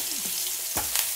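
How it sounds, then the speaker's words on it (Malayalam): Curry leaves sizzle and crackle in hot coconut oil left from frying pappadams, a close, loud, steady hiss with brief spits and stirring, and no voices. "ഇനി നമുക്ക് ആ പപ്പടം വറുത്ത വെളിച്ചെണ്ണയിലേക്ക് തന്നെ നമുക്ക് വേപ്പിലിട്ട്"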